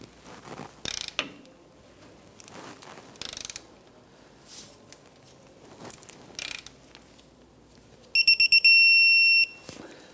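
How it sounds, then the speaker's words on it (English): A torque wrench tightens the track bar bolt on a 1997-2006 Jeep Wrangler, giving several short ratcheting bursts spread across the clip, followed near the end by a steady run of high electronic beeps. "Torque down the bolt to 55 foot-pounds."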